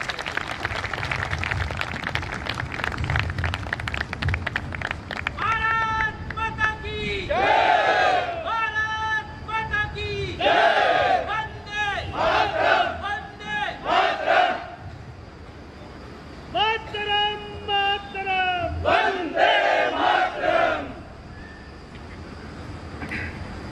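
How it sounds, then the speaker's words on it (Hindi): A crowd at a lecture event gives a loud welcome for an invited speaker, with rhythmic massed shouts and chanting in bursts over roughly fifteen seconds, rising and falling, then fading into quieter room noise. "जोरदार तालियों के साथ आपका स्वागत"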